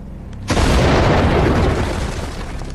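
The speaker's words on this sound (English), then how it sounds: "The cannon blasts with unbelievable power." A cannon firing a stone ball, set off by an electric spark in a quarry, erupts in one sudden, very loud close boom that rolls on into a long, sustained rumble.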